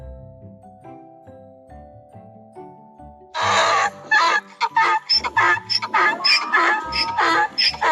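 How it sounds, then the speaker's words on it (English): A donkey brays loudly in a series of harsh, rhythmic honking bursts that start abruptly after a stretch of soft background music. "Donkey."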